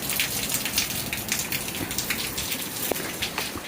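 Heavy rain pours steadily onto surfaces outdoors, a dense hiss with scattered sharper drips and patters, close and constant with no voices.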